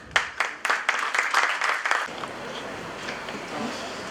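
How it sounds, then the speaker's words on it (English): Audience applause welcoming a presenting team at a presentation competition, a burst of separate claps lasting about two seconds before fading into quiet room tone. "Please welcome them with a big round of applause."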